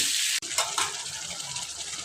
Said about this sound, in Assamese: আলুখিনি দিও এনেধৰণে লাৰিব লাগিব অকমান